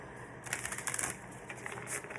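Tarot cards are shuffled close by, giving a dry, rapid riffling and tapping in uneven bursts over a steady background hiss.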